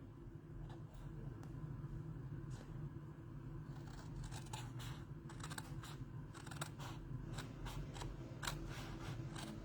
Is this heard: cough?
no